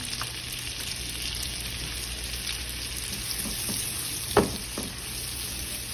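Peppers and onions frying in a skillet for a keto brunch, with a steady close sizzle throughout and a few faint utensil taps and stirring sounds, no voices.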